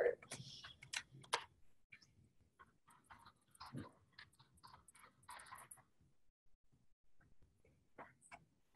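Someone types a search on a computer keyboard, producing faint, scattered key clicks in short uneven runs with quiet gaps between them.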